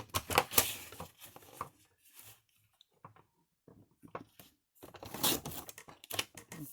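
Paper for a flip-and-fold mixed-media booklet is snipped in a few quick, close cutting bursts with crisp crunching and rustling, quiet gaps between them, and no speech.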